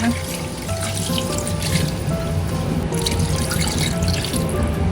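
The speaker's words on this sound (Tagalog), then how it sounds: "lalagyan po ng tubig. Atin na po itong sasabawan." Water is poured steadily into a cooking pot to make broth for a chili-leaf soup, a continuous close trickle and splash lasting several seconds.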